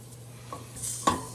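Flour-coated brisket searing in a pan for Neapolitan ragù, a soft sizzle broken by a few sharp clinks of a utensil against the pan in quick succession.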